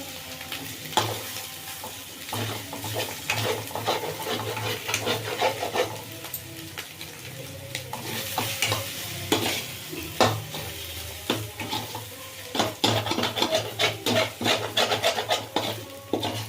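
Prawns and eggs frying in a pan with a little oil, a steady sizzle broken by repeated scraping and stirring strokes of a spatula that grow busier toward the end.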